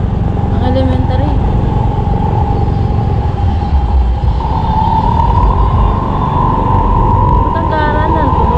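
A truck with a modified, loud aftermarket exhaust drones steadily and heavily nearby, a continuous rumbling roar throughout, with people talking over it.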